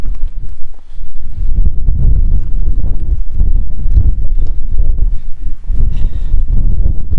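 Heavy wind buffeting a microphone on a hike on Sainte-Victoire mountain, a constant loud low rumble with gusty thumps throughout.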